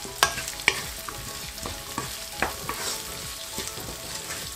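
Chopped onions sizzle in oil while a spoon scrapes and stirs them around the pan for turnip greens, a steady close fry punctuated by several sharp utensil knocks, with no voices.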